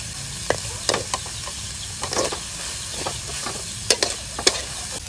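Onions frying in a pan with toasted coconut for a Cambodian crispy rice pancake: a steady close sizzle broken by sharp scraping stirs, several louder strokes standing out, with no talk.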